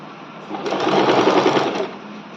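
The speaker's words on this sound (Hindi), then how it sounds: "इस तरह से मोड़ते हुए हमें पूरे गले पे इस पर सिलाई लगा लेनी है।" Sewing machine stitching the neckline of a ladies kameez, a steady fast whirring run of stitches for just over a second, rising and stopping, close and clear, with no talking.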